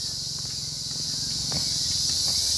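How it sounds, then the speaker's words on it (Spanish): Cicadas droning outdoors near a house under construction in Guatemala, a steady, high, hissing buzz that holds constant, with a few faint soft taps and rustles underneath. "Ahí se escucha con unas chicharras"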